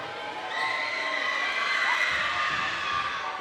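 A home crowd at a high school playoff basketball game between Goshen Central and Warwick Valley roars steadily through a free throw, a dense, sustained wash of cheering and shouting with no break.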